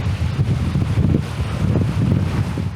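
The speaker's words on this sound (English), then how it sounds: "It's actually really, really windy." Strong gusts buffet the microphone outdoors near open water, a continuous rumbling roar that pulses unevenly in loudness for the whole stretch.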